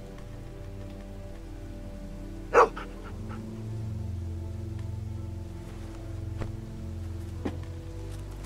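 A dog in The Walking Dead Season 2 video game gives one sharp bark, then a few fainter sounds, over a steady rain-like ambient background.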